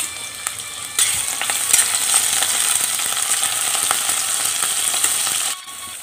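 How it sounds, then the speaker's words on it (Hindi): Onion, chopped ginger and garlic drop into hot mustard oil and burst into a loud, close, continuous sizzle with crackly spatter and occasional utensil taps, stopping abruptly near the end. "सरसों की तेल गरम हो चुकी है, इसके ऊपर डालूँगी प्याज, कटी हुई अदरक और लहसुन"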